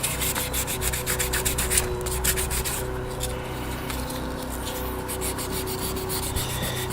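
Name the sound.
polishing a one-piece grip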